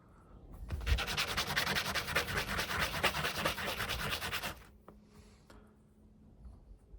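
A fret bevel on a cigar box guitar is smoothed by hand, producing a close, rapid rasping rub that runs for about four seconds, then stops, leaving near silence with a couple of faint ticks.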